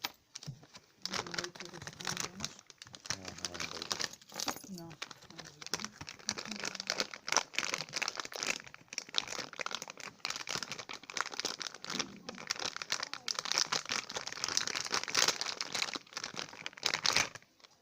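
Small plastic bag holding screws and two hose clamps for an ITX PC watercooling build crinkles steadily and close up, dense rustling bursts running almost continuously with brief pauses, no voices.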